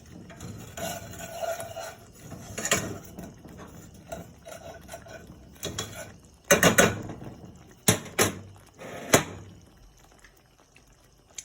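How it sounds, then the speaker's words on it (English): Pork Marsala sauce bubbling in a pan, irregular close popping and sputtering bursts, some loud clusters amid quieter simmering. "See it bubbling? It's perfect. It's bubbling away just like we want."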